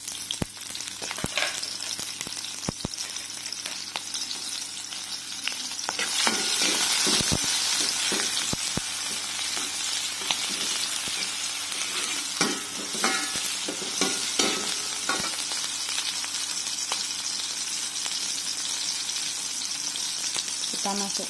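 Continuous loud sizzling of chopped spices frying in hot oil for cooking hummingbird tree flowers, with occasional scraping stirs and crackles throughout.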